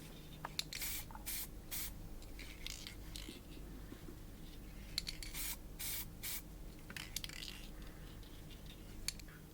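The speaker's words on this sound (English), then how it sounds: "I'd suggest spraying a light coat of paint from each side" Repeated short hissing bursts of a spray paint can laying a light coat on a steampunk clock kit part, several close, loud sprays with brief pauses between them over faint background noise.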